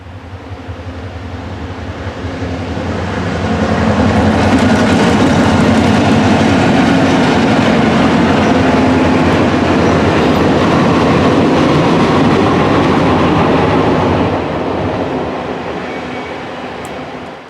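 A small freight train rumbles past close by on a mountain bridge over a creek, swelling from a distant roar to a loud sustained clatter of wheels, then easing off as it moves away.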